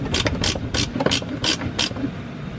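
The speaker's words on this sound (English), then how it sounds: "I have a gear wrench, but you know, if you have a regular wrench, it's just going to take you a few more seconds" A ratcheting gear wrench turns bolts on a 2023 Acura MDX trailer hitch, producing quick, close clicking bursts in an uneven rhythm, about seven short ratchet runs with no talk.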